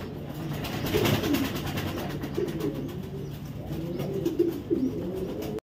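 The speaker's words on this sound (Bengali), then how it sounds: "একদম জোস কোয়ালিটির কবুতর" A pair of racer pigeons, a 2025 male and a 2023 female, coo in low, rolling bursts that rise and fall over a steady background hum, with faint chirps scattered between the calls.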